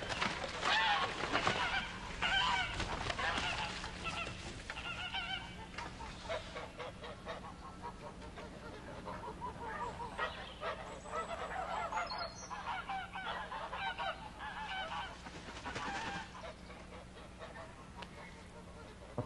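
Geese honking and calling repeatedly in a yard, a dense, steady flock chorus close by with overlapping honks throughout, no one speaking.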